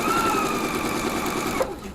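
Husqvarna Viking sewing machine stitching piping cord, a steady close mechanical whir running continuously before stopping abruptly near the end.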